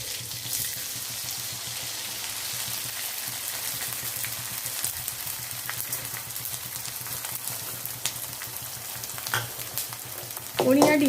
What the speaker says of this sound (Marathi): आपलं तूप गरम झालेलं आहे, यामध्ये मी डिंक तळून घेते।